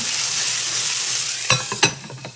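Tomatoes sizzle steadily in a frying pan, then a few sharp scraping clatters from a utensil stirring them break through near the end.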